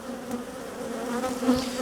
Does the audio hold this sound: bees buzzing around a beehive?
yes